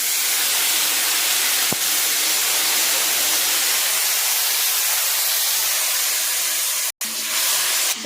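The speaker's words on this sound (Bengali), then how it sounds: "এবার একটু জল দিচ্ছি" Water hits a hot pan of spiced soybean and egg curry, giving a loud, steady steam hiss that continues without a break, with one brief click and a short dropout near the end.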